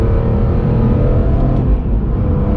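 A BMW E46 M3 with SMG gearbox accelerates hard, its engine a loud deep rumble. A quick gear change briefly dips the sound before it surges again, with no voices.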